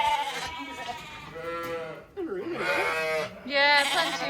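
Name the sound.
sheep and lambs on a farm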